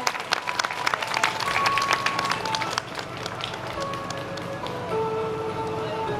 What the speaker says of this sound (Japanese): どうぞ皆様大きな拍手を寄せください。